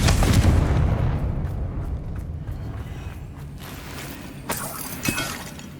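A Confringo blasting spell strikes a spider in Hogwarts Legacy, a loud fiery burst and shattering crash at the start that rumbles and decays, followed by a couple of smaller sharp impacts later on.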